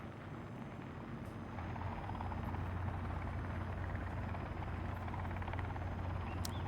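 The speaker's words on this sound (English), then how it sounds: "there's the helicopter again." A helicopter drones steadily overhead in the Sons of the Forest video game, a continuous low rotor hum that swells slightly partway through and stays even, with no talking.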